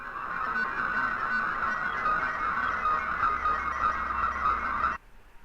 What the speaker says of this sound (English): If you see this note about an incorrect audio error, it's because it sounds like this.